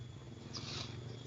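Baby kittens purr softly and close by, a faint, continuous low rumble with no voices over it.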